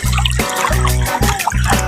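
River water runs steadily through a rural Philippine village, where people wash laundry. A close, continuous rush and trickle carries on for the whole moment, with a low hum layered beneath it.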